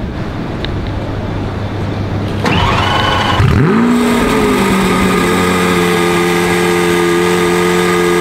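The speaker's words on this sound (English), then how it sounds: "I'm just about to drive the Veneno for the first time out of the showroom and down the road." A Lamborghini Veneno hypercar fires up with a loud engine start, then a deep rising roar as it revs and pulls away from a showroom, holding a strong, sustained tone close by.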